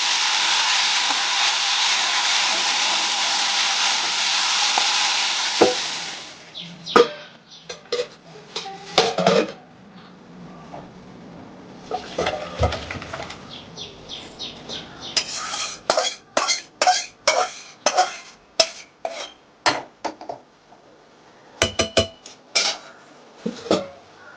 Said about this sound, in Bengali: এখানে মশলাটা কষাচ্ছি পেঁয়াজ টমেটো মটরশুঁটি দিয়ে